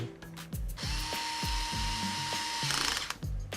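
A power drill driving a screw into a Traxxas Slash LCG RC truck, several short whirring bursts with ratcheting clicks, close and loud, one longer steady run in the middle.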